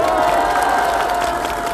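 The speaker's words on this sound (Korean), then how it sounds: "용기 내서 한번 떠들어 보라고 응원의 박수 한 번만 부탁드리겠습니다." A crowd at an outdoor political speech event bursts into steady, dense applause and cheering, loud and close throughout the brief moment.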